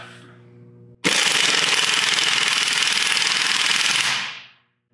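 An AirCat stubby air impact wrench hammers loudly and steadily for about three seconds, then winds down. A soft hum is heard before it starts.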